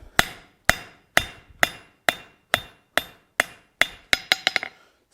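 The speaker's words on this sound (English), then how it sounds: "We're going to come up and use edge blows. So that means our hammer's not completely over the edge of the anvil." Hammer edge blows ringing on an anvil while forging a simple latch: about a dozen sharp, close metallic strikes at a steady pace, quickening into a rapid cluster at the end.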